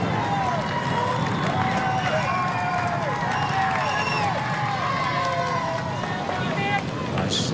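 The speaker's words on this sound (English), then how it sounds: "Cheers from the crowd there as they pass through." Roadside spectators cheer and shout as Tour de France riders pass during 2013 stage 16, a sustained crowd roar with whistles and wind buffeting the microphone, steady and fairly loud throughout.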